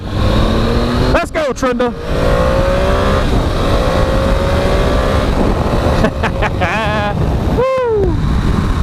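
An 800 cc motorcycle revs hard and accelerates away, its engine note sweeping up and down in loud rising pitches, with wind buffeting and excited people talking and shouting over it.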